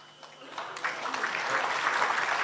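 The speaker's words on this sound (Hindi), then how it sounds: "अभी आप ताली बजा रहे हैं, ताली मत बजाइए" An audience at a political speech applauds, clapping that starts thin and swells into steady, somewhat distant applause lasting to the end.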